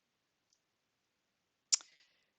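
A single crisp computer mouse click, close and fairly quiet, in an otherwise silent room.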